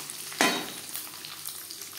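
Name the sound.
shredded coconut frying with five-spice in a pan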